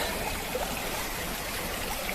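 River water rushing over big rocks along a valley trail, a steady broadband roar of flowing stream and trickles that holds constant throughout, close and uninterrupted with no voices.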